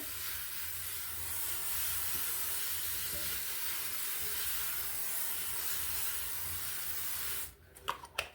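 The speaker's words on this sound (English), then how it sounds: "The first thing I do, spray my pan with butter." A steady hiss of butter cooking spray onto a pan pours out for several seconds, then cuts off, followed by a few light clicks and knocks.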